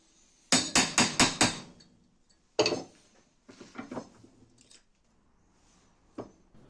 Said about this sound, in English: I can then just take the tin snips and trim it down to the right size.